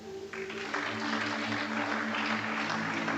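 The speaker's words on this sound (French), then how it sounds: "Je voudrais que nous acclamons encore pour la veillée du vendredi." Church congregation clapping and cheering, steady dense applause rising after a brief voice at the start.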